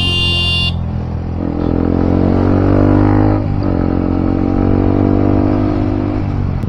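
Dense road traffic heard from a motorcycle stuck in a jam: engines idling and revving close by, a brief horn-like tone at the start, continuous loud rumble with no talking.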